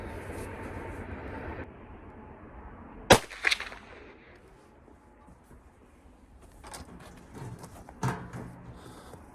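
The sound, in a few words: gunshot from Winchester Model 94 Trapper .44 Magnum rifle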